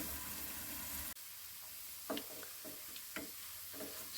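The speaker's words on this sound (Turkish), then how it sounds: "Kapağını kapatıyorum. Biraz kavuruyorum." Cauliflower sautéing in a pan, with a steady sizzle that drops sharply as the lid goes on, then soft crackles and a few light ticks from under the cover.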